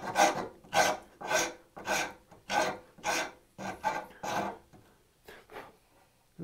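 Rat file rasping an organic shape in wood, close and steady with about nine rhythmic back-and-forth strokes, each a coarse scraping burst.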